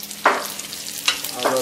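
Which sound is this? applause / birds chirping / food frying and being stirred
food frying and being stirred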